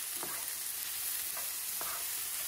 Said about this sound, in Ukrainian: Перемішуючи смажимо 5-6 хвилин.